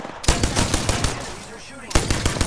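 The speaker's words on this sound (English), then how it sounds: "Enemies are shooting." Enemy gunfire in Apex Legends comes as loud, close bursts of rapid automatic fire, dropping briefly to a quieter stretch before another burst starts.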